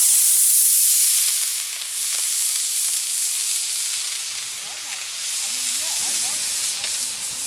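Small R/C rocket glider motor, a Battlestar Galactica Viper mini, launching with a loud, steady rushing hiss that holds throughout, while faint voices sound in the background.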